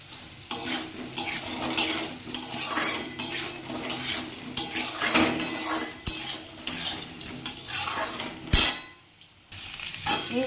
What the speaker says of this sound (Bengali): এবার একটু সোয়াবিনটাও একটু তেলের মধ্যে ভেজে দেবো